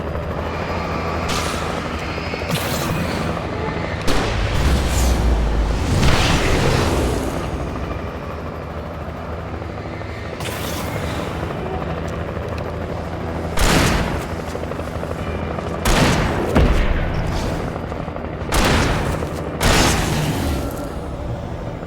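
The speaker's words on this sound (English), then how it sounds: "Now I've got helicopter support." A helicopter flies overhead in the video game Alan Wake Remastered. Its rotor roar is loud and steady throughout, and several heavy booms and blasts burst over it.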